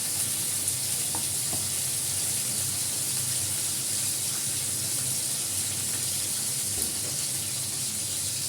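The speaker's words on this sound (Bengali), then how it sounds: "মাছটা একটু হালকা করে ভেজে নেব।" Fish frying lightly in a pan gives a steady, dense sizzle that holds evenly from start to finish, close up and uninterrupted, with no voices.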